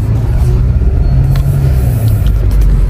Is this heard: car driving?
yes